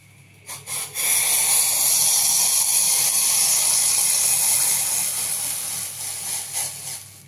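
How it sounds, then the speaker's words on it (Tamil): Steady rushing hiss of water at a rolling boil for filter coffee, loud and continuous, with a few bubbling bursts at the start and as it eases toward the end. "நல்லா தண்ணி நல்லா கொதிக்க ஆரம்பிச்சிருச்சு"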